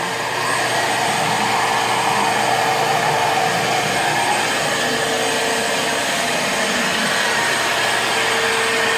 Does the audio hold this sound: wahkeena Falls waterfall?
no